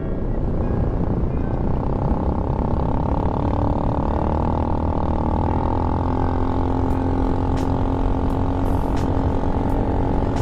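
A Venom X22GT 250cc motorcycle ridden flat out on a runway in a headwind, with a loud, steady engine drone and heavy wind rumble held close throughout.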